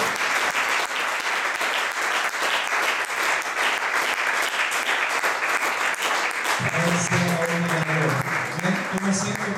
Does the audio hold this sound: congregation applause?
yes